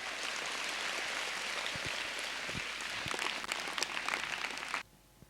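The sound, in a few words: audience applause at a school speech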